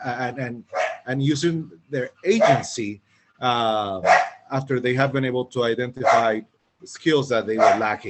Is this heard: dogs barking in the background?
yes